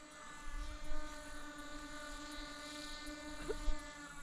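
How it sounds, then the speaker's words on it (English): A loud quadcopter drone hovering about 300 feet up, a steady high-pitched whining hum of spinning propellers heard from a distance with slight wind noise underneath. "So it's definitely not a quiet drone."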